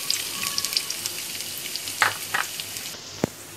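Onions frying in a couple of spoonfuls of hot oil in a pan, giving a continuous crackling sizzle with a few louder pops and spits close by.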